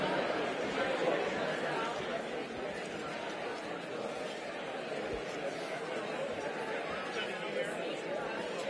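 A large seated crowd at a city research bureau's annual luncheon meeting chatters all at once, producing a steady, dense murmur of overlapping voices that fills the hall at an even level.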